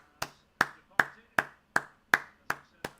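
One person claps eight times at a steady, unhurried pace, each clap sharp and close, alone without talk, saluting a substituted player during a Cadiz vs Barcelona football match watch-along.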